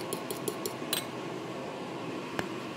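Separated egg white and yolk whisked in a bowl, a quick run of light clinking taps at the start and one more clink later over a faint steady background hum.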